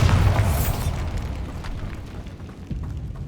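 A Bombarda spell goes off in Hogwarts Legacy as a loud, close booming explosion that hits at once and fades into a low rumbling tail.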